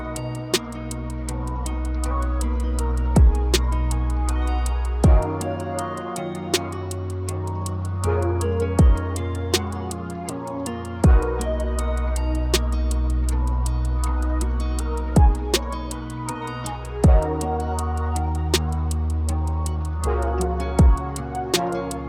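An alternative R&B beat built from a guitar sample and analog synth sounds, with steady punchy drum hits over sustained deep bass and warm chords, playing loud and continuous without voices.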